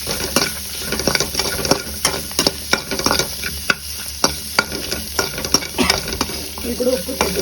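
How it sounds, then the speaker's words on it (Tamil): A spatula stirs and sautés food in a frying pan, making steady scraping and clacking strokes over a continuous loud sizzle, with no voices. "நல்லா வதக்கிக்கணும்"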